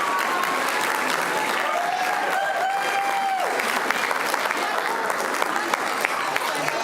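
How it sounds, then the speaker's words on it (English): A meeting-room audience applauds a youth football and cheerleading team for winning the East Coast Conference Championship, the steady dense clapping filling the room from start to finish, with a brief rising whistle-like tone partway through. "A big round of applause, please."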